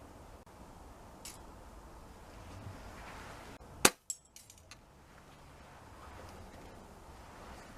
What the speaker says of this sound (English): So I'm going to be shooting this with the AGS PCR1.